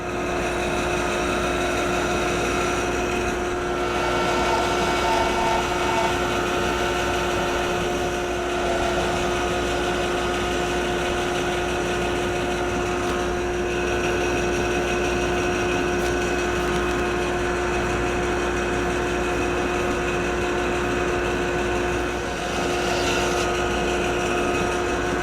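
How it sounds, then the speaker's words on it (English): Woodshop bandsaw running steadily for a long stretch with a constant motor whine and tonal hum, cutting a wooden piece with slight variations as the blade works through the wood. "I'm going to go over to the bandsaw and cut this out"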